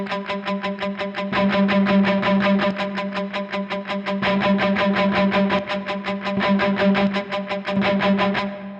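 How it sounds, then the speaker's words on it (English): Electric guitar played through a Timmy lead boost pedal, a fat, driven tone with a fast stream of evenly picked notes ringing over sustained lower notes, loud and close for the whole stretch. "I really like that fat sound that the Timmy gives"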